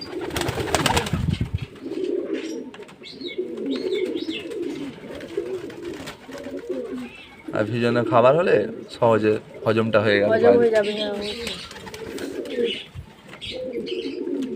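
Pigeons coo softly in a loft, their low murmuring calls running under nearly continuous close talk throughout.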